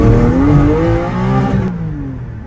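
Porsche GT4 with factory overpipes revving hard through a one-gear pull, the engine note climbing loudly for over a second before cutting off into a lower, fading exhaust drone.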